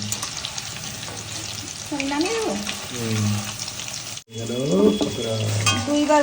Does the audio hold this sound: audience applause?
no